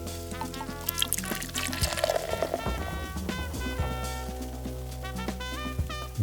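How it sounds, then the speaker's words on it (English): Pinot Grigio white wine is poured into a hot pan to deglaze it, making a steady liquid pour with sizzling and clinks of cookware, fairly close and without talk. "Now we deglaze the pan with a splash of white wine."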